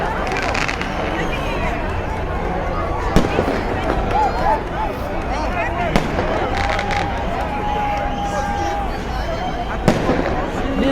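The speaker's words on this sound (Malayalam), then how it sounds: "പൊട്ടി മോനെ പൊട്ടി, ആദ്യത്തെ പടക്കം പൊട്ടിയിടാ." New Year firecrackers burst in a few sharp, loud bangs spaced several seconds apart over the steady hubbub of a chattering outdoor crowd in Armenia.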